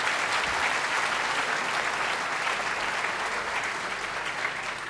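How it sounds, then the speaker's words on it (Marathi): An audience at a formal event applauds warmly, a thick continuous wash of clapping that holds steady for several seconds without talk. "मला वाटतं यात सगळ्यांसाठी आपण टाळ्या वाजवूया."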